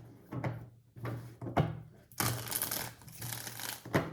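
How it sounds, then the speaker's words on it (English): Tarot cards being shuffled by hand, a series of close, crisp riffling bursts separated by brief pauses, with the last stretch a longer continuous shuffle. "Shuffling for Gemini for the month of November"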